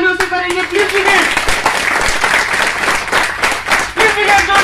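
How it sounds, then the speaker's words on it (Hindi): Loud clapping from a crowd at a distributor launch event in Amravati, vigorous and sustained, with a voice carrying over the applause and tonal sounds near the start and end. "और हमारा स्वागत हम जोरदार तालियों से करेंगे।"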